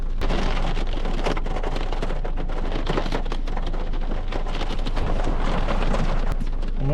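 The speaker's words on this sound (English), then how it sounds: "So the rain's just kind of getting through." Steady rain falls through bare autumn trees with few leaves left. A dense, constant patter and hiss runs throughout, with sharper drips and taps scattered across it.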